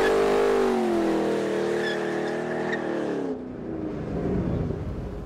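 A 2013 Ford Shelby GT500 heats its rear tires with a loud, continuous tire squeal over a revving engine, then drops to a rougher, quieter roar; close and alone, no talking.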